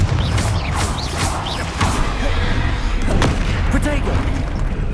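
Repeated Confringo blasting-spell explosions in the Hogwarts Legacy video game, a dense string of booming blasts and crackling impacts over rumbling low-end, with game voices underneath.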